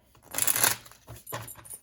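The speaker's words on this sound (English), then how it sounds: "These card decks are hard to shuffle when they're miniature, but I'm going to go ahead and shuffle them" A miniature tarot card deck is shuffled by hand, giving two close, papery riffling bursts, the first longer and louder than the second.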